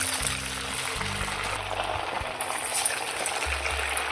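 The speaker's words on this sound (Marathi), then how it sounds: "तेल आपलं तापलंय, यामध्ये आता आपण वडे सोडूया।" Sabudana vadas sizzle in hot oil with a steady bubbling hiss, while low clunks and hums from the kitchen come and go beneath it.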